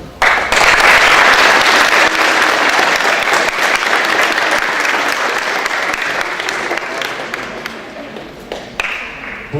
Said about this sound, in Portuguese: Então, recebam ele com um forte aplauso.